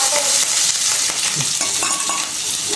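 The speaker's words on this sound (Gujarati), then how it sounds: "હવે તેલ નાખીએ છીએ એમાં." Hot oil sizzles and crackles loudly in a pan while batata poha is made, a close, constant frying hiss with faint scraping of a stirring spoon.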